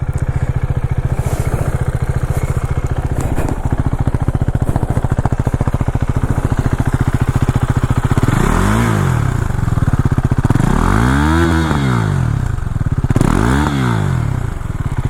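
Single-cylinder Husqvarna 401 Svartpilen motorcycle revved hard several times while standing, each throttle blip rising and falling in pitch over a steady lumpy idle, loud and close, with no talking.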